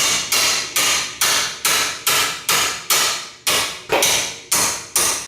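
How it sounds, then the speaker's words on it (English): About a dozen loud, sharp metallic hammer blows driving a 1/2-inch socket extension into a suspension bushing on a 1994-97 Honda Accord, at a steady rhythm, each ringing briefly before the next; no voices. "slide a 1/2 inch extension in there, hammer it in"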